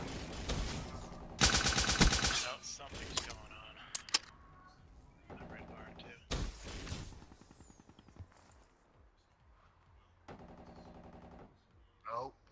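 Bursts of automatic gunfire and single cracks ring out in the Black Ops 3 shooter, some loud and close, others farther off, with quieter gaps between volleys.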